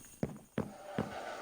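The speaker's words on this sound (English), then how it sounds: "The skeleton horses." Skeleton horses shuffle inside a stable in a blocky sandbox game, four soft hoof clops at uneven intervals over a faint background hum, quiet and close, with no talking.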